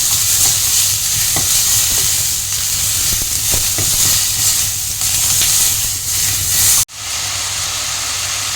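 Ridge gourd, potato and onion sautéing in a pan, a loud continuous hiss and sizzle with soft stirring scrapes up close; the sound cuts off sharply near the end, then resumes as a steadier hiss.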